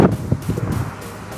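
Strong wind buffets a handheld microphone outdoors in Saudi Arabia, a close, rumbling low roar with uneven gusty surges over little more than a second and no speech.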